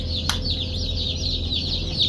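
Many chicks in boxes cheep continuously and shrilly, a dense chorus of high chirps close by, with one sharp click early on.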